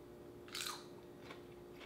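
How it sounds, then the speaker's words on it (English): A thin, crispy homemade sweet potato chip gives one short, sharp crunch as it is bitten, close and fairly quiet, followed by faint chewing in an otherwise still room. "Hear that crunch?"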